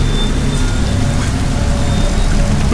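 Steady, loud rainfall with a dense, even hiss and patter that continues without a break through the whole stretch.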